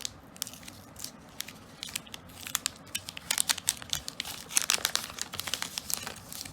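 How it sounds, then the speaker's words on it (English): Plastic wrapper on a bar of Lifebuoy Red soap is torn and peeled off, giving close, soft crinkling and crackling that grows busier toward the end. "The first wrapper comes off"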